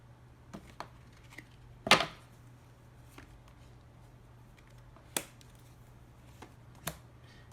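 Tarot cards being shuffled by hand, heard as a few sparse, sharp riffling snaps and taps spaced over several seconds against a quiet room hum, with no talking.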